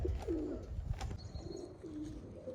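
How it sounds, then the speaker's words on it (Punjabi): Several low, throaty coos from female domestic pigeons come in quick succession, close by, over a steady low background hum. "ਆ ਕਬੂਤਰੀਆਂ ਬਈ ਆਪਣੀਆਂ ਬਹਿਣਾ ਆ ਗਈਆਂ"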